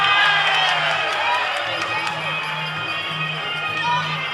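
Spectators at a Muay Thai fight in Perth cheer and yell on their feet, a loud roar of crowd voices with shouts rising and falling while a commentator talks over it.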